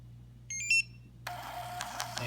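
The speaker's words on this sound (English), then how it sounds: "Processes the transaction, and you'll hear the beep when completed" A Pax S90 CDMA EMV chip card terminal gives a short, faint electronic beep when a batch completes, followed by a soft rustling hiss over a low steady hum.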